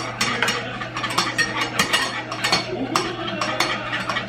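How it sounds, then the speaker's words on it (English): A whisk beats egg yolks and milk in a bowl, quick repeated metallic scrapes and clinks in an uneven rhythm, close and moderately loud. "And you're just gonna whisk, whisk, whisk until this gets thick."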